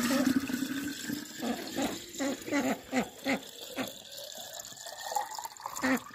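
Water pours into a three-liter glass jar, a close splashing and gurgling flow that swells and dips in uneven pulses over several seconds.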